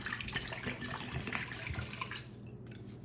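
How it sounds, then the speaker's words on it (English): Water is poured into a bowl of marshmallows, a continuous close trickling and splashing stream with light dripping that eases off near the end, heard on its own without voices. "Now, just add a little bit of water"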